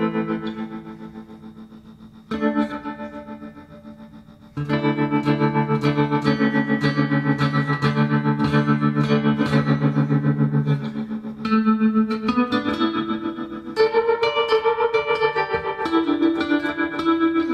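A 1963 Fender Jazzmaster electric guitar played through an Allen Encore amp, drenched in reverb and wobbling modulation, notes and chords ringing out with long echoing tails; no voices.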